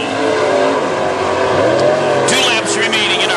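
WISSOTA Super Stock race cars roar around Princeton Speedway during a heat race, engines droning loud and continuous with rising and falling pitch as cars pass, while an announcer talks over the racing.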